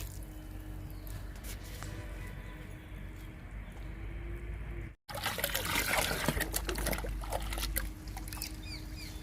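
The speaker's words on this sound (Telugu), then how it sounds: "కాశ్మీర్ గులాబీ కూడా ఇస్తున్నా లిక్విడ్" Liquid fertilizer is poured onto Kashmir rose plants in a flower garden, giving a close trickling, pattering splash that runs on steadily, breaks briefly, then resumes louder and wetter.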